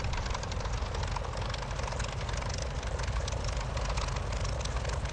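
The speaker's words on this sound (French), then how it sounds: "Alors le son de l'avion" Curtiss P-40F Warhawk propeller engine in a flight simulator game, a steady, loud, dense drone of the running aircraft engine held evenly throughout with no voices.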